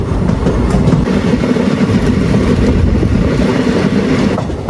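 A train bound from Kolkata toward Nepal rumbles along steadily, its wheels clattering on the tracks in a continuous, loud roar heard from on board.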